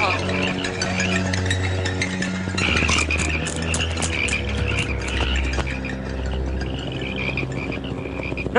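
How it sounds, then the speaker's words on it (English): A dense chorus of cartoon frogs croaks continuously and loudly, a thick rhythmic mass of ribbits in an animated scene about invasive frogs overrunning crops in Australia. "Those frogs are eating all their crops!"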